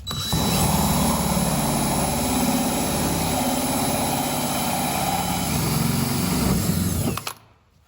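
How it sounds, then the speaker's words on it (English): A 95 mm (3 3/4 inch) hole saw drills a feeder port hole through a pilot hole, with a loud steady motor whine and grinding cut running nearly eight seconds before winding down abruptly at the end. "we are using a 3 3/4 inch or a 95 millimeter hole saw"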